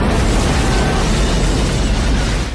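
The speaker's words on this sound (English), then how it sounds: "he's not looking back at the explosion because he just assumes the guy got out of the car" A car explodes in an action movie scene, a loud sustained roaring blast with rumbling low end that holds for a couple of seconds before tailing off.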